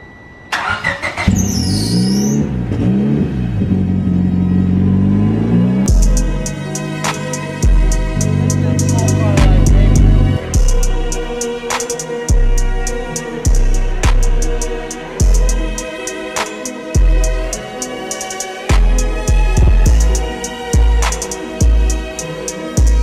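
A Honda Civic with no exhaust fitted cranks, catches and fires up, then runs loud and raw, its idle broken by repeated sharp throttle blips and revs close to the listener.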